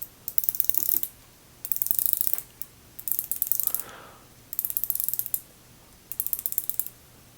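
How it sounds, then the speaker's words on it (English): Crisp clicking of a Seiko SBBN047 diver's watch bezel ratcheting as it turns, coming in five short bursts of rapid clicks, close and fairly quiet. "it's a very smooth action when you're turning it. So here's an example of how it sounds"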